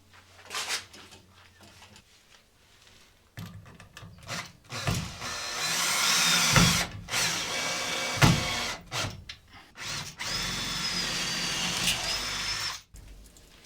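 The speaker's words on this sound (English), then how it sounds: "I grab the drill through the wood" A power drill whirs in several bursts through wood, revving up and cutting off, with clattering handling noises between runs, fairly close.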